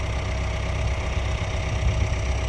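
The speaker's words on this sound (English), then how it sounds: "I can drive my tractor" A tractor engine runs steadily during field work between crop rows, a low continuous rumble with a faint knocking vibration and no talking.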